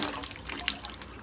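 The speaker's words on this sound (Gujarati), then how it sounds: "જોયું હવે આ પાણી મેં નાખ્યું." Water poured into a drain that empties quickly, running and splashing with a few sharp drips and gurgles, close by with no talking.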